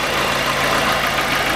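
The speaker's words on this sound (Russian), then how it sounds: "Вот этот ролик натяжителя шумит." A running Chevrolet Niva engine drones loud and close, with a continuous whirring, slightly rough mechanical noise from a noisy belt tensioner pulley.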